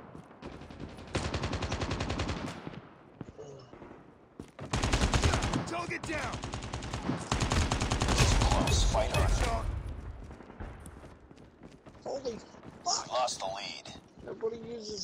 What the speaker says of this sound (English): Light machine guns in this?